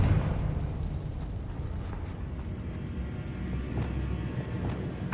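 Casting the Confringo fire-blast spell in Hogwarts Legacy sets off a dense, rumbling explosive roar in an underground goblin mine, sustained and steady with faint crackles above it.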